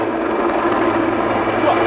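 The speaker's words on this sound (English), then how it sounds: "aircraft now on the hover" A Wildcat military helicopter hovering about 300 feet up at an air show, giving a loud, continuous rotor and engine roar that stays steady and dense.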